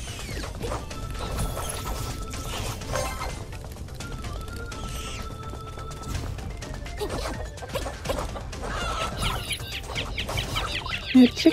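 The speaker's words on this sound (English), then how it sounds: "That chicken noise is so evil." Game chicken clucking in My Time at Sandrock, heard amid a dense mix of crashing and mechanical game effects, with a sharper burst of clucks near the end.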